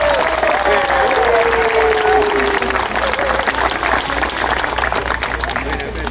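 Strong, dense applause fills a hall at the closing ceremony of an international tourist guides congress, honoring the organizing team, with a brief voice or tone audible early on before the clapping continues steadily.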